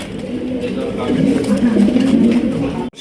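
Indian Bombay pigeons coo continuously at close range, a low throaty rolling sound that stays steady until it cuts off abruptly.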